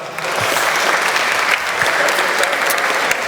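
An awards-ceremony audience claps loudly and steadily, a thick wash of applause filling the room throughout.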